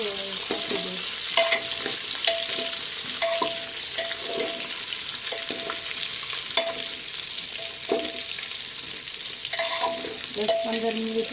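Spice-stuffed brinjals fry in hot oil with a steady close sizzle, while a spoon stirs and scrapes against the pan in intermittent knocks and clinks.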